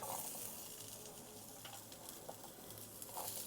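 Onions tossed into a pan where garlic has already been fried sizzle steadily and continuously with faint stirring scrapes, soft and close, no voices.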